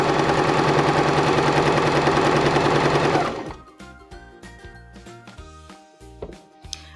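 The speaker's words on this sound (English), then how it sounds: "and I'm going to sew to the end." A Baby Lock Zest sewing machine stitches fabric wrapped around piping, running loud and steady for about three seconds before stopping, then leaving quieter clicks and handling noises.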